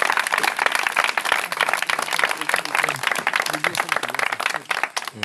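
A congregation claps at an evangelisation night at a camp in Ambroi Yaokro, Lifou region. The applause is dense and continuous, mixed with voices, and trails off abruptly at the end.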